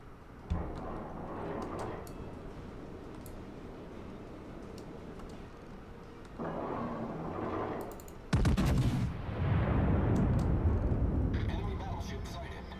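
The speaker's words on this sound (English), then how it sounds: "Concentrate fire on the enemy warship." Heavy warship artillery in World of Warships, with the Ohio battleship firing its main and secondary guns: a sharp blast near the start, then a loud booming broadside around the middle that rumbles on under a steady background roar.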